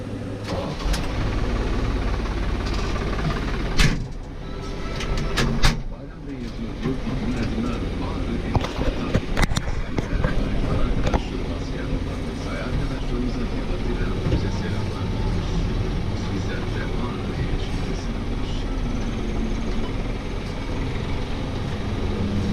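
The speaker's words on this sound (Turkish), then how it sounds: "Şimdi hemen traktörümüze binelim ve işlerimize başlayalım." A tractor engine runs at a steady, rumbling low idle on a farm, with people talking over it and a few sharp clatters and knocks early on.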